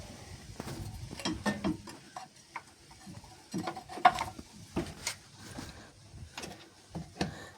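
Engine of a Moskvich 2141 car being turned over by hand, irregular mechanical clicks and ratcheting knocks in uneven bursts, close by, with no talking.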